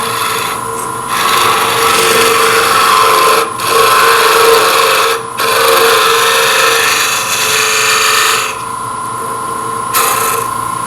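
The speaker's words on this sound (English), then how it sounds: "I'm just removing wood to reduce the weight." A small hollowing tool scrapes wood from a Christmas ornament spinning on a lathe, giving a loud, steady rasping hiss that breaks off briefly a few times before continuing.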